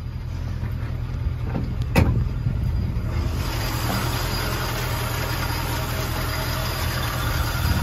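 A 1966 Ford Mustang convertible's V8 engine idles with a steady low rumble, a brief sharp click early on, and a constant hiss over the top.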